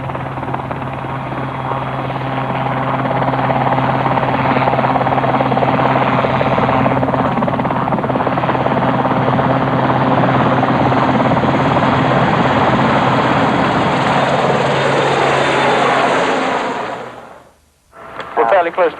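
A rescue helicopter on a rolling takeoff toward Orkney: a loud, continuous rotor and turbine roar that builds and holds steadily close by, then briefly drops out near the end.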